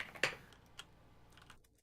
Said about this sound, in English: I'm typing in words in We're Google